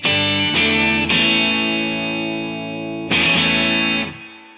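Electric guitar chords struck four times, each left ringing and sustaining before the next, in a full, close tone.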